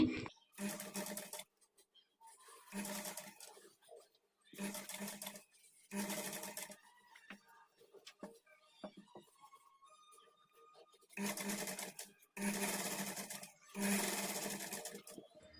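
A sewing machine stitches a blouse hemming strip in repeated runs of rapid, whirring clatter, each a second or so long, separated by quiet pauses with a faint voice.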